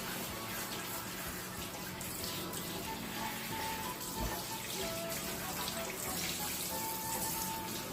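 Shower water runs steadily and close while a dog is bathed, a continuous splashing hiss with no talking.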